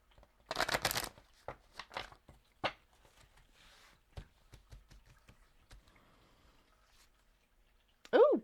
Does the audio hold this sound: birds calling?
no